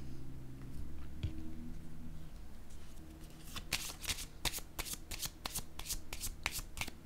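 Tarot cards are handled quietly at first, then a run of crisp, snappy card flicks and riffles comes up close as cards are shuffled and drawn, with no talking.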